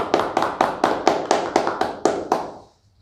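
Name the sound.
audience applause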